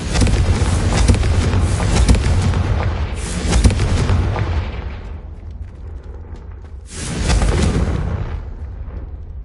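Confringo blasting spells in the video game Hogwarts Legacy, three heavy, rumbling explosions one after another, each a loud boom that fades into a long low roll before the next.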